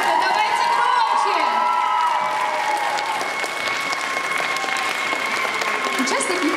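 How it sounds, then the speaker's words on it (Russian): A festival audience at an animation screening applauds and cheers, steady clapping mixed with children's shouts and whoops, with a voice talking over the crowd. "Ой, как много аплодисментов."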